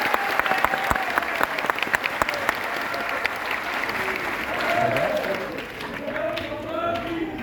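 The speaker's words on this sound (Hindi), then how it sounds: "एक बार अपने देश के लिए ताली बजा ले।" An audience at a satsang gathering applauds, a sustained crowd of clapping hands with some sharp claps near the front, while voices are heard over the applause in the later part.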